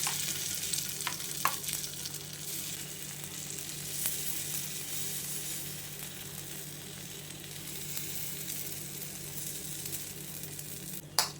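Fasting sandwich batter cooks on a hot sandwich maker with a steady, close sizzle throughout, broken by a few soft clicks and a sharper tap near the end.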